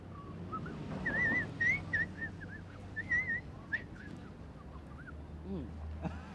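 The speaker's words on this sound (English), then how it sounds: "I couldn't whistle the last bit." Someone whistles a short melodic tune in quick, wavering phrases, close up, over a low rumbling background with some voices murmuring.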